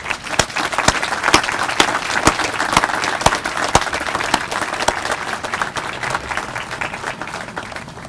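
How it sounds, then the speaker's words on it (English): A crowd at a restaurant ribbon cutting gives a long round of applause, dense steady clapping with some sharper individual claps standing out, fading slightly toward the end. "join me in a giant round of applause for all of those individuals who made this happen"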